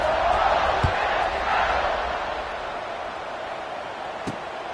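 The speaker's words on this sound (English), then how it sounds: "this crowd is buzzing after that last score" A stadium crowd buzzing in a college football video game, a steady broad roar held at an even level with a couple of faint thuds.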